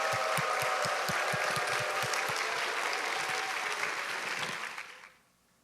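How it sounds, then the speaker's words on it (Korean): A church youth retreat audience claps and cheers to welcome a pastor to the stage, with dense, lively applause filling the room for several seconds before fading out quickly at the end. "우리 큰 환영과 환호의 박수"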